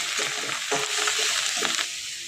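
Greens curry sautéing in a pan with ginger paste, a continuous close sizzle with a few stirring scrapes cutting through.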